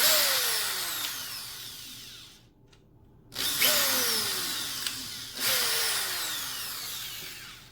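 A power drill whines as it bores through wood to make a press-on nail stand, two drilling bursts separated by a brief silence, each pitch sliding downward as the bit spins.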